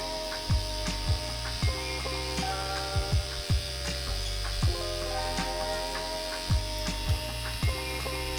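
A tattoo machine packs color into skin with small circular movements, giving a steady buzzing hum broken by repeated clicking, ratchet-like ticks roughly every half second, close and continuous with no talk.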